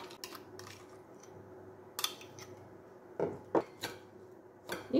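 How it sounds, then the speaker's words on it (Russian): Salad is tossed in a bowl with utensils, giving scattered clinks and scrapes that come in short irregular bursts over a quiet kitchen background, without any talking. "И теперь это все тщательно перемешиваю."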